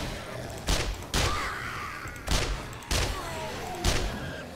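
Gunfire in the zombie survival video game 7 Days To Die during a horde night, five separate loud shots spaced about a second apart, each booming and then trailing off into echo.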